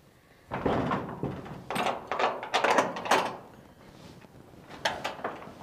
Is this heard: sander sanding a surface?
no